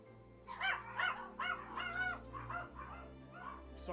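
Three chihuahuas bark repeatedly at a door indoors, a run of sharp, high yaps in quick bursts over a low steady hum, with no talking.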